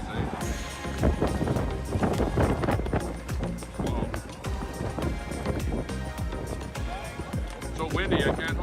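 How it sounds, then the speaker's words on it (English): Strong wind buffets a camera microphone outdoors at a Coutts–Milk River gathering, with continuous rough rumbling and a person talking throughout. "So windy, I can't hold my camera steady here."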